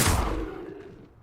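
Confringo blasting spell cast in the video game Hogwarts Legacy: a single loud, broad burst at the start that fades into a decaying rumble over about a second.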